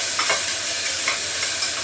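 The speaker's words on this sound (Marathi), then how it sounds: "आता कांदा परतून घेते." Onion sautéing in a pan gives a loud, continuous close-up sizzle, with a few brief stirring scrapes over the hiss and no voices.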